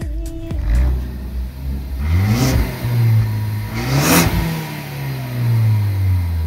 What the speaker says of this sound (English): Give us a couple revs.